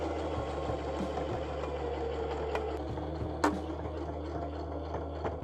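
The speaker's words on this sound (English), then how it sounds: "So just, again, a single straight stitch here on all 4 of the panels." A sewing machine runs a single straight stitch to attach pockets to fabric shorts panels, a steady close mechanical hum with light rhythmic ticking and an occasional sharper knock.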